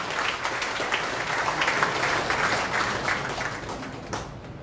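A crowd claps at a party inauguration event for a provincial chairman, a continuous wash of many hands heard from a distance, moderately faint and fairly even before thinning out at the end.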